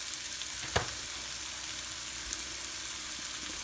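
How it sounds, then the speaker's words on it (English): Noodles and vegetables stir-frying over high heat, a soft steady sizzle with an occasional clack of utensil against the pan, faint and continuous with no talk. "Stir fry them on a high heat like this."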